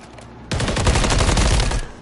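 Gunfire in a first-person shooter video game comes as one loud, dense burst of rapid shots lasting just over a second, with no talking over it.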